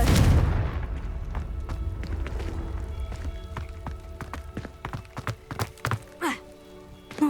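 In Hogwarts Legacy, the Confringo blasting spell goes off with a heavy boom at the start, followed by scattered thuds, clicks and footstep-like taps fading into a quieter background.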